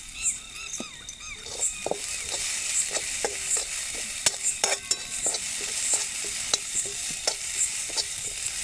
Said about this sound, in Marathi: मिरच्या आणि अद्रक आणि लसूण चांगला परतून घ्यायचा